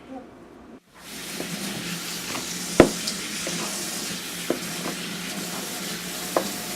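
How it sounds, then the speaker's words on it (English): A spoon stirring and mashing cake pop mixture in a bowl, soft scraping and clinks with a sharper knock or two, fairly close over steady background noise. "we're going to take this spoon and mix it up a little bit more"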